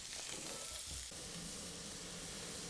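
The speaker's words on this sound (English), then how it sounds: "I'm just going to fry it all off and then put it in my stewing pot." Beef frying in a pan in batches for spicy Korean beef, giving a steady, dense sizzle that runs unbroken and fairly close, with no voices over it.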